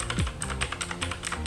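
Typing on a Teamwolf Vodstorm RGB mechanical keyboard with Outemu blue switches: a quick, close run of crisp, clicky keystrokes in an uneven rhythm, about a dozen presses, with no voices.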